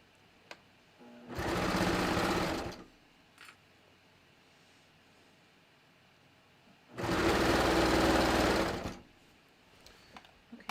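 A sewing machine stitches a bathrobe seam in two separate bursts of about two seconds each, a fast close whirring with quiet pauses between, a few small clicks in the gaps.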